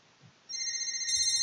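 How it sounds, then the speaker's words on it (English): Cell phone text message alert in the visual novel Katawa Shoujo, a short, bright electronic beeping tone chime of about a second, clean and alone with no voices over it. "A beeping noise suddenly emanates from Mrs. Ibarazaki's pocket"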